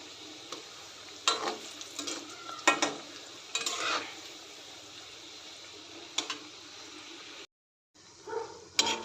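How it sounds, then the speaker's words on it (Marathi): Layered shankarpali pastries fry in hot oil over low heat, a close sizzle broken by scraping strokes of a slotted ladle and a brief cut to silence near the end. "हलक्या हाताने तळून घ्यायचे आहेत हे सर्व शंकरपाळ्या मंदाचे वर तळून घ्यायचे आहेत"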